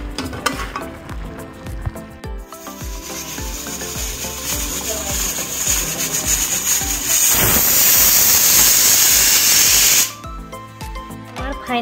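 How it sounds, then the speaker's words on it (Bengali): A pressure cooker holding tough free-range desi chicken sits among kitchen clatter and knocks, then a loud, harsh hiss of escaping steam rises and holds for about three seconds before cutting off abruptly. "প্রেসার কুকারে দুটো সিটি আমি মেরে নেব"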